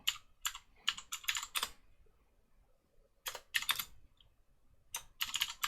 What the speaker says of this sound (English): I don't want to spend ages just in typing things up